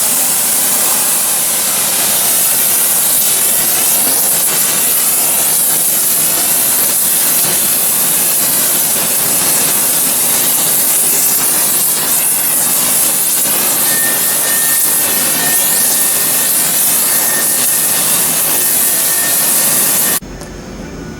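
Arc welding on a preheated part for line boring and bushing work: a steady, loud broadband crackle and hiss running continuously for about twenty seconds, then cutting off abruptly near the end.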